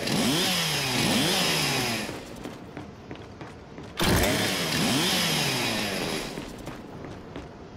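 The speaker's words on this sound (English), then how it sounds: "Just use your Lancer's chainsaw." Whirring chainsaw bayonet of a Lancer rifle cutting through a custodial robot in the Gears 5 video game: a loud, close, continuous revving grind that dips, then surges again with a heavy thump.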